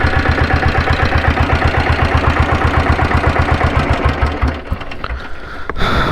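A diesel Bullet motorcycle of 6.5 or 7.5 HP idles in neutral close by, its loud single-cylinder thump beating in a fast steady rhythm before easing slightly near the end.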